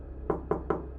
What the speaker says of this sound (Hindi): अचानक मुख्य दरवाजे पर दस्तक हुई।